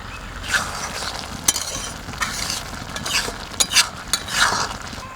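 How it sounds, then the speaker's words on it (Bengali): Boiled dal being mashed and stirred with a big wooden masher in a pot, a soft wet churning with a few sharp knocks against the vessel, close and irregular. "এই যে বড় একটা মথুনি নিয়েছি ডাল ঘাটার জন্য, ডালটা খানি ঘেটে নেব।"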